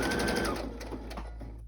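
A sewing machine stitches steadily at close range, its motor whirring continuously for under two seconds and slowing slightly toward the end, while book page tags with doodle flowers and washi tape are being made.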